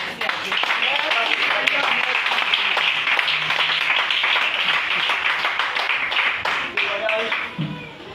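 A congregation at a Christian worship service clapping steadily to acclaim the Lord, dense sustained applause filling the room for several seconds, with a voice speaking over it.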